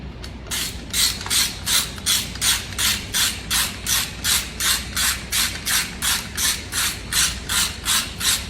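A ratchet clicks in a steady repeating rhythm while tightening bolts during a 2007–2014 GT500 engine swap into a 1999–2004 Ford Lightning, each stroke a close, crisp burst of ratcheting.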